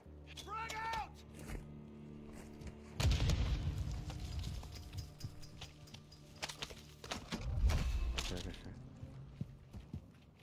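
A frag grenade goes off in the Call of Duty Warzone video game, a deep muffled boom followed by a second rumbling blast a few seconds later, with game effects and voices talking around it.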